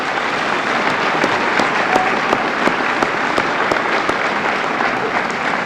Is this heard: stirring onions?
no